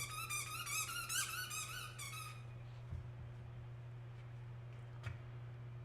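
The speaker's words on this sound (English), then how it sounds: "This one squeaky bed you got there." Squeaky dog bed squeaking indoors: a rapid burst of shrill rubbery squeaks in the first two seconds, fairly close, over a steady low electrical hum, then only faint scattered clicks.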